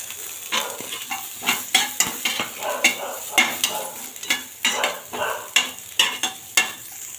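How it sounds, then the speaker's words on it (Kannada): Sliced onion fries in oil with garlic and cumin, soft sizzling broken by regular scraping stirs of a utensil against the pan, close by and unaccompanied by voices. "ನೆಕ್ಸ್ಟ್ ಗೈಸ್, ಇದಕ್ಕೆ ನಾವು ನೀರುಳ್ಳಿ ಹಾಕೊಳ್ಳೋಣ ಹುರ್ಕೊಳ್ಳೋಕ್ಕೆ"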